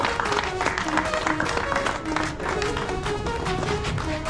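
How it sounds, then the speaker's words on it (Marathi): An audience at a sports awards ceremony applauds with dense, sustained clapping that fills the whole stretch at an even level, while faint voices and a tonal background sound run underneath. "आपला हा सन्मान आपण स्वीकारायचा आहे आणि जोरदार टाळ्या सर्वांनी खेळकन भावनेने"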